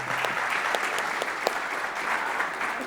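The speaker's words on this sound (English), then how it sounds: "I'll first give a round of applause to all three of them." Audience at a manufacturing panel on critical minerals and recycling claps for three panelists, a steady dense wash of many hands with a few sharper claps standing out, moderately loud and sustained throughout.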